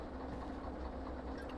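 A train hauled by a DE2 locomotive in the railway video game Derail Valley gives a steady, unbroken low rumble with a faint rolling clatter throughout.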